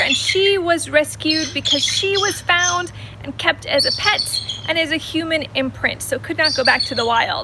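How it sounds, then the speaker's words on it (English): Eagles at a birds of prey center call repeatedly in the background, bright chirping cries scattered throughout while someone talks close by over a low steady hum. "You can probably hear the eagles in the background as well."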